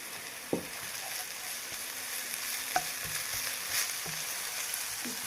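Garlic sizzles with onions in a pan for masala bhindi, a steady frying crackle with a few sharp stirring knocks from a utensil, close and moderately loud, with no talking.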